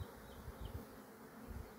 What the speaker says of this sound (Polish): Pszczoły pracują równo, dostojnie.